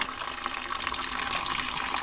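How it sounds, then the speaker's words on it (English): Water runs steadily from a tap into an RV setup fitted with a CR Spotless deionizing filter, a close, continuous hissing gush with no talk. "Let's run a little bit of water here."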